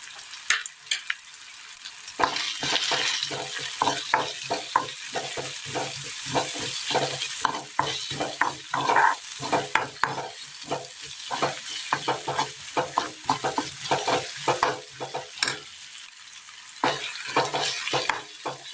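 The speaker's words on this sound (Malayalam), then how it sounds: "എല്ലാം നന്നായി ഒന്ന് വാട്ടിയെടുത്തിട്ടുണ്ട്." Ginger, tamarind, salt and curry leaves sauté in a pan, with a constant close sizzle broken by rapid, rhythmic scraping of a spoon against the pan that pauses briefly now and then.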